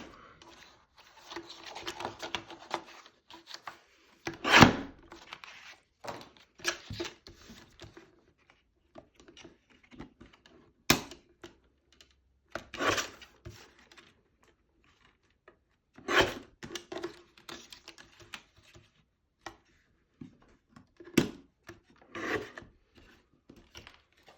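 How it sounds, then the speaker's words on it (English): Small paper guillotine trimming card, giving scattered sharp slicing and sliding rasps with quiet handling noises between them, close and intermittent. "let's just use my little guillotine here"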